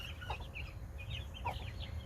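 A Langshan hen, a big black heritage-breed chicken, gives a few soft clucks close by over a low farmyard rumble, with other fowl murmuring faintly around her.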